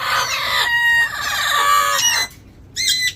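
Blue-headed parrots in a breeding aviary give harsh, loud squawks and screeches in close bursts, with a short pause before a final shrill call.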